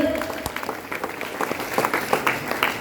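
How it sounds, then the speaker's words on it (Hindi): Loud applause from an audience as a woman comes on stage at a corporate empowerment event, irregular claps filling the room with a voice briefly audible underneath. "उनके लिए एक बार जोरदार तालियां होनी चाहिए।"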